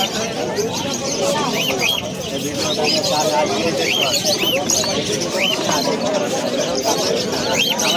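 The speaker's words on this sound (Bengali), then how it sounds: "দেখুন কিছু পায়রা দেখুন" Repeated soft coos of pigeons close by at the Uluberia pet market, mixed with chirps and a busy crowd chattering throughout.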